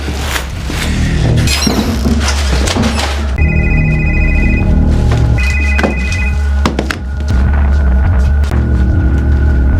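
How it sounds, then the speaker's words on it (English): A telephone bell rings in an office at night in a horror film scene, with bursts of trilling rings over a steady low hum and a dense, rumbling background score throughout. "heard a phone ringing and quickly rushed to Dr."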